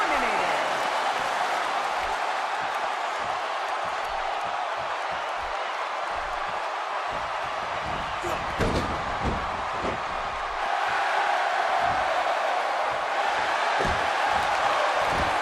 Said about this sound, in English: The crowd is buzzing.